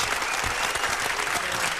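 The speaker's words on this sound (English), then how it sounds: "Keep the applause going for me, Torch." Steady applause from a crowd, dense clapping that stays loud and even throughout.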